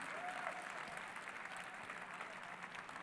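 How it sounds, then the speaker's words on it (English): Audience applause at the F1 in Schools World Finals 2014 awards celebration, a steady dense wash of clapping from a large seated crowd throughout, moderately loud and continuous without pauses. "A massive round of applause for all of our teams."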